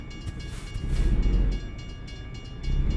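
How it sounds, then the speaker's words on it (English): Freight train passing a truck in American Truck Simulator on an Iowa route: a steady, close rolling rumble with a broad roar that swells midway, with no voices. "It's ridiculous how long these trains are with this mod."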